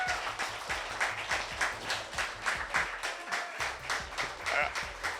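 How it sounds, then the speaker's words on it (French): An audience at a horror fan expo applauds a guest, a sustained wash of many people clapping at moderate volume, with a low background hum and a little murmuring beneath it. "S'il vous plaît, une très grande main d'applaudissements pour Georges Mihalka."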